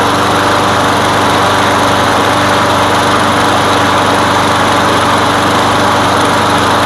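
A freshly tuned-up lawn mower engine runs loud and close, holding a steady high-pitched buzzing drone with a constant rattle and no change in speed throughout.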